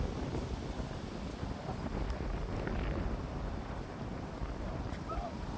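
Steady wind rushing and buffeting against the microphone, a continuous low roar with no pauses, close and fairly loud.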